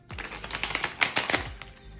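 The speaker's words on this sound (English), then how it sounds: "We're going to shuffle one more time." Tarot cards being shuffled in a quiet room, a run of soft rapid riffling flicks and light taps lasting about two seconds, close and fairly quiet with no voices.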